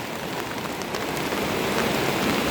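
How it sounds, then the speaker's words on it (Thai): Heavy rain pours at a rural house in hilly country, a dense, loud, continuous hiss that swells slightly toward the end, with no voices. "ถามว่าฝนแรงไหมแรง"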